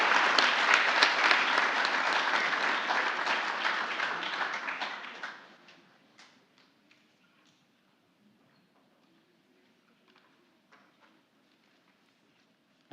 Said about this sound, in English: Now we can round of applause for all the IT executives class of 2024